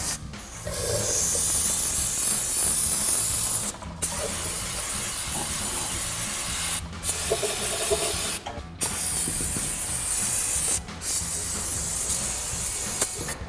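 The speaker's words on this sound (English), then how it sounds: "get some brake clean up all the brake fluid that went everywhere" Aerosol brake cleaner hisses in long continuous bursts, several separated by short pauses, sprayed close up onto a front brake caliper of a 2005-2023 Toyota Tacoma to wash off spilled brake fluid, with faint mechanical rattles beneath.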